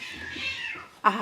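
A house cat meows loudly and close by near the end, a sudden sharp call after a stretch of muffled, indistinct indoor background.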